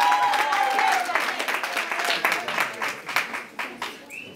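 An audience at a prize ceremony applauds a winner, a full burst of clapping that thins out into scattered individual claps toward the end, with a voice heard briefly near the start.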